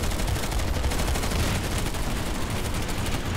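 Rapid, dense gunfire in the online shooter Planetside 2, continuous overlapping shots and bursts filling the whole stretch, loud and unbroken.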